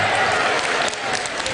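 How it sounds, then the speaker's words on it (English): Conference audience clapping for themselves, a steady, dense burst of applause from a large crowd filling the room, loud and continuous throughout. "Clap for yourselves."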